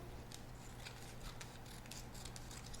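Scissors snip through paper in short, quick cuts over a steady background hiss, close but faint, with no talking.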